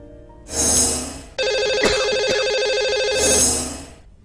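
A telephone rings while a radio show's hosts call a lucky caller: a loud electronic ringtone plays in repeated bursts with a short gap between them, close and clear, and nobody speaks over it.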